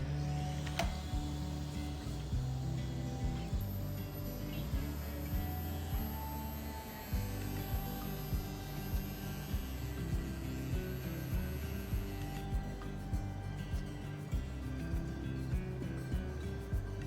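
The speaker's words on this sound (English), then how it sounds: "I'm using the Arbortech power chisel to remove the wood within the letters and the" An Arbortech power chisel carving out wood inside lettered designs, a continuous rapid mechanical chattering buzz with steady rhythmic pulses and scraping, loud and close, no talk.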